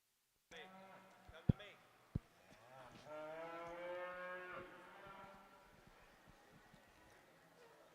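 Beef heifers at a junior heifer show ring at a Kentucky beef expo, one lowing in a long drawn-out moo mid-clip, preceded by a couple of sharp knocks and soft background voices of the arena.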